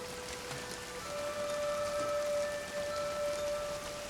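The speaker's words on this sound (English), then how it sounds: "The plips and plops of raindrops are so nice to fall asleep to." Steady rain patters and drips on surfaces in the Infinity Nikki game, a dense, even wash of droplets holding at moderate level throughout with no voices.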